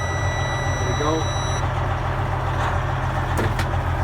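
A brand-new 2017 Freightliner Columbia day cab glider truck idles with a steady low diesel rumble after starting. Brief faint noises sit on top of the engine note.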